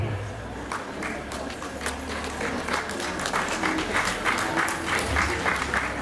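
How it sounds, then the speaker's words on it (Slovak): Audience at a school-year opening ceremony breaking into applause, many hands clapping steadily and building slightly over several seconds in a large room. "môžete tlieskať, ešte som síce mena nepovedal, ale potlesk si zaslúžia"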